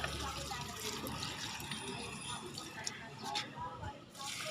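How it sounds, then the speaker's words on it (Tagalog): Water poured onto garden soil while watering plants in hot weather, a soft, faint splashing and trickling under someone speaking. "Medyo basa-basain natin ang lupa."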